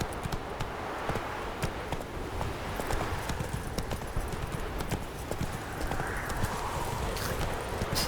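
Horse hooves clip-clop in a quick, steady rhythm throughout, close and clear, from a video game.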